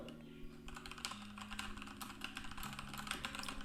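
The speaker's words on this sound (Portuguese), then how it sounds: "Se eu começar a digitar aqui" Fingers type on a computer keyboard in a steady, quick patter of close key clicks over a faint low hum, with no talking.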